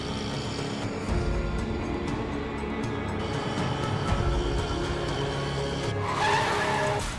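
A car on a road brakes hard and skids toward a stop, a loud, continuous rush of engine and tire noise with a brighter screech rising near the end, no voices.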